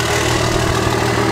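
A Cummins diesel truck fitted with an oversized exhaust tip idles close by, giving a steady, loud, deep rumble with an even pulsing drone throughout and no talking.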